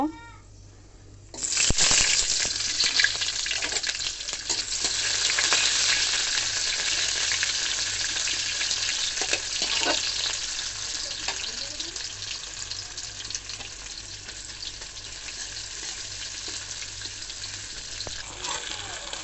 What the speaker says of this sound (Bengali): আদা রসুন দিয়ে নিয়েছি আদা রসুনের পেস্ট